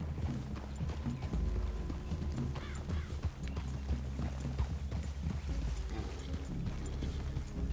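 Horse hooves clip-clop in a steady trotting rhythm at moderate distance in the video game Red Dead Redemption 2, with some rustling and creaking alongside.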